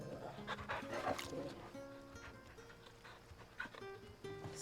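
A dog in the video game Final Fantasy XVI whimpers and yips in short bursts over a musical game soundtrack, with a voice talking faintly in places.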